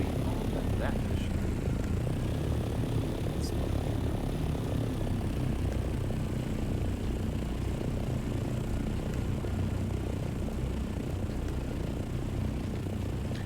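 Ornithopter from the Dune: Awakening game in flight, a continuous droning engine hum that stays loud and steady throughout with no break.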